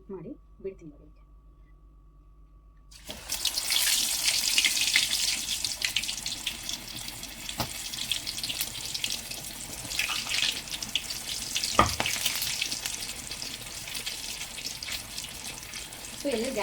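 Mirchi bajji dropped one by one into hot oil, frying with a steady, busy sizzle and crackle that starts suddenly after a few seconds of quiet and continues loud and close, with a couple of sharp clicks.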